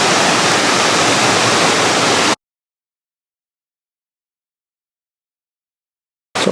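A countryside waterfall near Vang Vieng, Laos, pours as a loud, dense, steady rush of water for about two seconds, then cuts out abruptly and returns briefly at the end.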